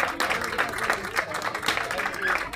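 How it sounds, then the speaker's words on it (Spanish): Applause from an outdoor crowd for a student honored at a disability day ceremony in a town square, steady clapping throughout with voices mixed in. "Un aplauso también para Emilia."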